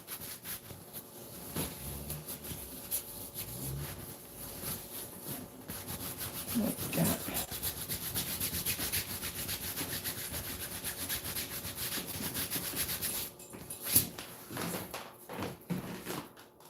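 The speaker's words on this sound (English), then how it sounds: "I literally took my hands and stuck it into your paint and rubbed it into the tablecloth." Hands rub paint into a cheap tablecloth, a continuous close scuffing and rubbing of fabric with a few sharper knocks and bumps, no speech.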